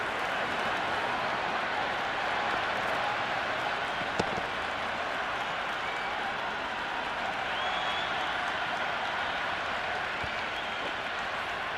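A large cricket crowd at an Ashes match between Australia and England fills the air with sustained, even applause and cheering, a dense wash of clapping that holds steady throughout with one brief sharp knock.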